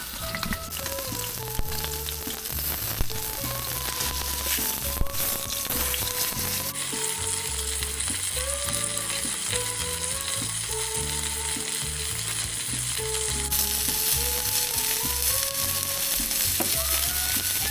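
Asparagus with salt frying in a pan inside a camper van, a steady close sizzle and crackle with occasional stirring and clatter, no talking.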